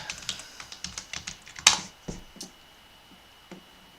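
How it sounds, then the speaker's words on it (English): Code being typed on a computer keyboard: a quick, uneven run of close key clicks, including one louder strike, then a slowing trickle of isolated taps. "And I can start typing code in here."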